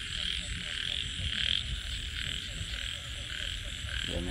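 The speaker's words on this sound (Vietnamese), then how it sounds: "Giờ này có ếch kiều đó" Ếch kiều frogs croak steadily at night near the fields in a loud, continuous chorus of overlapping calls with a constant high insect-like drone.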